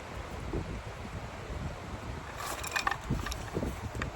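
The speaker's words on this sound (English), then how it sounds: "Windy," Gusty wind buffeting the microphone with a low rumble, some faint rattling and clinking in the background.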